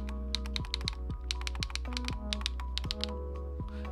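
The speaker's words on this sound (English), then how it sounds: "The multimedia keys seem to be a membrane" Membrane multimedia keys on an EVGA Z15 keyboard being pressed, a run of soft, close taps in an irregular rhythm over a low steady hum, with no talking.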